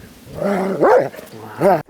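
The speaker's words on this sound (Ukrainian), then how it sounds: "Також евакуйований з Покровського напрямку собака на ім'я Джоні." An 11-year-old dog evacuated from the Pokrovsk direction gives a few close, loud barks and growls in short bursts, with no talk over them.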